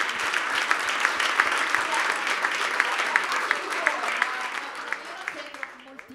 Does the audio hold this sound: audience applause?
yes